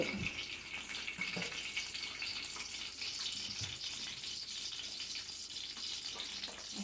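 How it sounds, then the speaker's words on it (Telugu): Boiled eggs lightly frying in oil in a pan for a Telugu egg curry, a steady soft hiss and sizzle, faint and continuous with no talking. "ఎగ్స్ వేసుకోవాలండి కొంచెం లైట్గా ఫ్రై అవ్వాలి ఎగ్స్"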